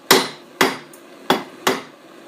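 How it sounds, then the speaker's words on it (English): Red-hot steel is hammered to forge a carving chisel. Four sharp, ringing hammer blows land at uneven intervals, close and loud, with no talking. "turn it over, keep hammering."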